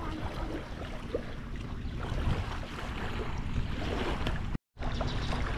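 A speed boat runs on the sea off a beach in Bahrain, a steady rushing drone of engine and water spray that stays constant and fairly loud, with a brief dropout near the end.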